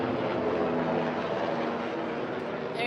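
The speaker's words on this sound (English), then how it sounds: "All right, presidential helicopter just went over." A presidential helicopter passes overhead on a Washington DC night street, its steady engine roar and rotor noise filling the clip.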